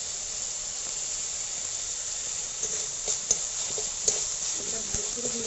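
Ginger-garlic spices and half-boiled taro leaves fry in a pan, giving a steady, close sizzling hiss throughout, with a few soft clicks of stirring near the end.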